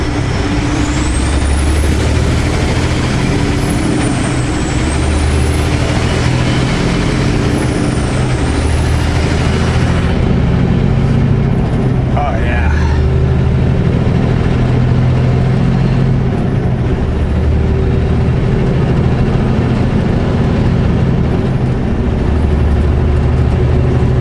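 A truck engine runs loud and steady at close range just after starting in British Columbia. A low, even rumble continues with a brief hissing, air-brake-like burst partway through.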